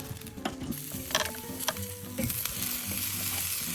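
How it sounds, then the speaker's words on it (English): Lamb chops sizzle on a Weber grill as they are flipped, a steady frying hiss with scattered clicks and scrapes of tongs on the grate, moderately close and with no talking. "So we're just gonna go through and get them flipped here."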